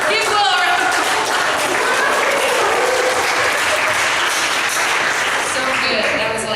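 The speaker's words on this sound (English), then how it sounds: "Give Will a round of applause." Audience applause during a teaching talk, steady and loud throughout with crowd murmur mixed in.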